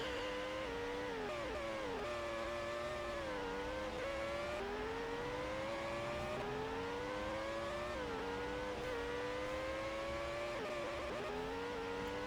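Race car engine in a racing video game, a qualifying lap at Silverstone, revving steadily up and down through gear changes with a rising and falling whine, fairly quiet and continuous without talk.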